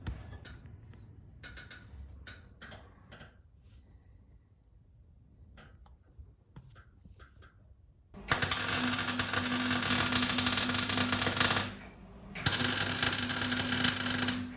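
A bracket for the pedal box on a 1934 Chevy sedan-based utility is welded. After a quiet stretch of faint shop sounds, a loud, dense buzzing crackle runs for about six seconds, with one short pause partway through.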